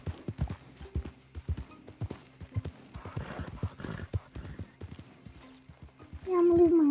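Hooves clip-clop in a quick, steady rhythm in the video game Red Dead Redemption 2, then a horse lets out a loud whinny at the end.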